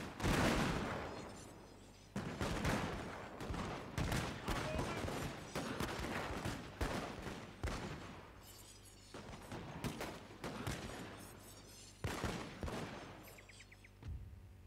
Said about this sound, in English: Let's just witness another volley.